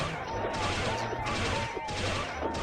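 In the Artale video game, a gunslinger fires a gunshot skill as a dense, loud volley of rapid shots, repeated in three quick bursts close together.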